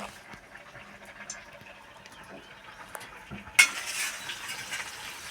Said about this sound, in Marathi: अशा प्रकारे आपल्याला फोडणी तयार करायची आहे